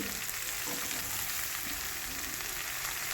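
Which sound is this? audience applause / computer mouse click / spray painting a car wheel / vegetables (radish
vegetables (radish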